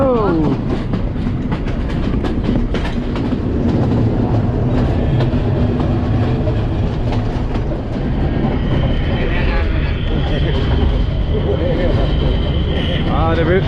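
A loud, steady rumble of a train in Sri Lanka, with rhythmic rattling and clatter running throughout, close and continuous.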